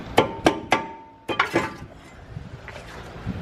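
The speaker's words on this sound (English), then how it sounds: "we'll be able to tap this rotor off" A hammer strikes the front brake rotor of a Mercedes-Benz GLE350 to knock it loose: three sharp metallic taps, a short pause, then two or three more ringing hits that fade into quiet shop noise.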